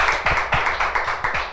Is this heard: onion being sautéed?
no